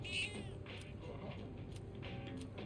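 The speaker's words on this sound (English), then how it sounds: "The cat is purring loudly. It seems happy." A cat in Persona 3 Reload gives a short meow near the start, soft and close, followed by quiet background game ambience.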